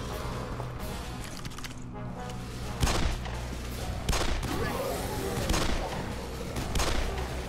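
Gunfire in the video game God Mode, a dense fusillade of rapid shots and bursts running the whole way through at steady loudness, with a few louder impacts standing out.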